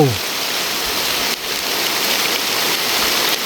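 Steady, fairly loud rain pours down in a forest, a dense continuous hiss of drops on leaves and surfaces close by, with a few faint low bumps of movement.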